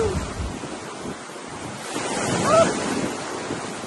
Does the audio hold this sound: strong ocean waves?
yes